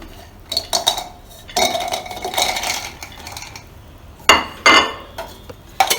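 A cup of cashews, about 100 grams, is tipped into a mixer grinder jar, making light clinking and rattling clatter in several separate bursts, close and fairly clear.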